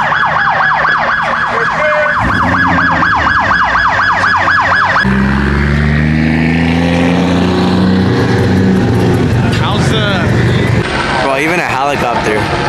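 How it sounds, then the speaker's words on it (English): A loud police siren wails in rapid repeated sweeps, then shifts to a slower rising-and-falling tone, blaring close by over engine noise and a nearby voice. "He just like has the siren on full blast now."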